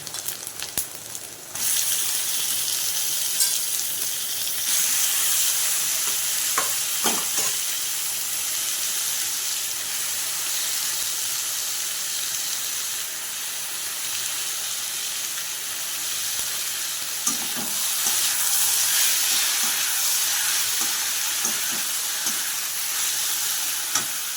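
Ginger garlic paste sautés in a pan with a continuous, bright sizzle that swells after a quieter first moment, broken by scattered spatula scrapes and taps; no voices present.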